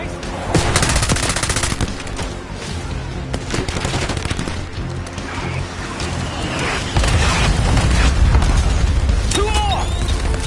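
Heavy gunfire in the Call of Duty Black Ops 6 campaign: dense bursts and rapid shots across a battle scene, growing louder near the end, with booms under the shooting.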